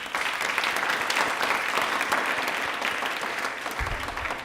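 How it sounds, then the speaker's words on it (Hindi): Audience applause at an Indian Railways quiz event, steady, dense clapping from a crowd lasting several seconds, moderately loud and without any talk over it. "तालियां एक बार जोरदार हो जाएं।"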